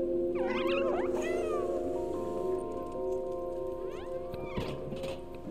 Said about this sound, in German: Miau, um Feinde anzulocken.